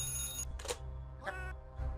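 Telephone ringing in the video game Calm Down Stalin, two or three bright electronic rings in short bursts over a steady low game hum, with no talking.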